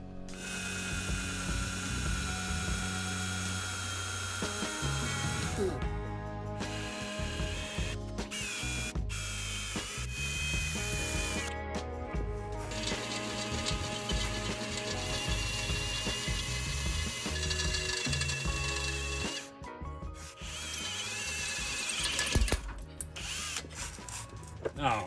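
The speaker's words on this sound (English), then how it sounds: "I smoothed out the metal to start drilling the bolt out." A power drill bores out a seized bolt on a rusted fuel tank strap under an L320 Range Rover Sport, grinding steadily and loudly for most of the stretch with a few brief stops and restarts.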